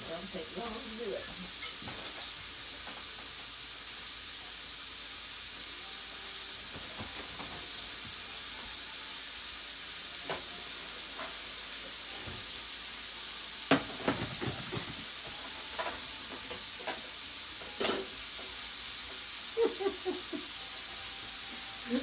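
A steady, faint sizzling hiss of shrimp frying in a pan runs throughout, with occasional clinks and scrapes of the pan.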